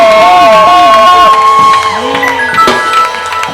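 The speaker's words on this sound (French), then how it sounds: "Pousse des grands cris de triomphe ce matin." A church congregation at a Sunday worship service shouting and cheering in triumph, loud sustained overlapping voices, whoops and cries filling the room.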